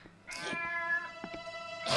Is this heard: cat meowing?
yes